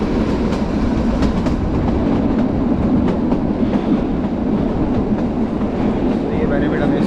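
The Kalka-Shimla toy train rolls along its mountain tracks with a loud, continuous rumble and a faint rhythmic clickety-clack of wheels. Voices are faint under the noise.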